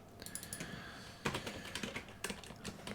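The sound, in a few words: typing on a computer keyboard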